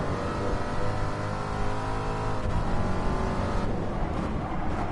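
Ford Mustang race cars in Gran Turismo Sport, engines droning loudly with a steady rising harmonic whine that shifts as the cars accelerate, constant and close.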